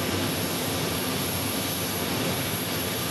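An Airbus A321neo jet airliner arriving from Philadelphia gives off a dense, even engine roar, a steady wash of broadband noise at moderate distance with no talk over it.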